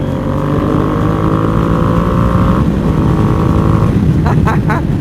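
A Yamaha R1M sport motorcycle engine drones loudly and steadily at a held pitch, close by, then drops briefly, and a few quick revving blips come near the end.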